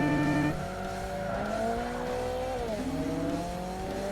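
A Lotus Exige race car in the 2005 Xbox game Forza Motorsport, its engine droning steadily with a rising and falling whine as revs shift, plus a brief tire squeal, loud and continuous throughout.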